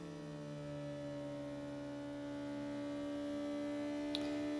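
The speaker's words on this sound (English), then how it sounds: "Now, to vacuum seal, all I gotta do is push down on this lid" A small electric pump motor in a Zwilling vacuum sealer hums steadily, with a low, even drone that stays quiet and constant throughout, ending with a faint click.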